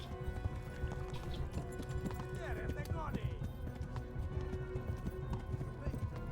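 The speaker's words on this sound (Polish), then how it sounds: "Czemu ten koń zwolnił" Horse hooves clip-clop in Kingdom Come: Deliverance, a fast continuous rhythm with a brief whinny-like sound midway, under game sounds and faint voices.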